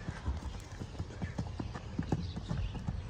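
A lean pregnant dun mare walks on hard ground, hooves clip-clopping in a steady close rhythm throughout, with faint background noise.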